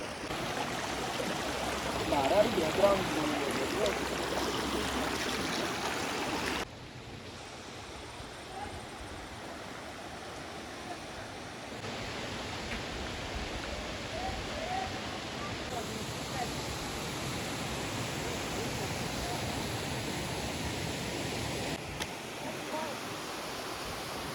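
Constant rushing roar of Jhumfali Waterfall in Danta, Banaskantha, a dense broadband hiss that persists throughout, with a few faint voices blending into the noise.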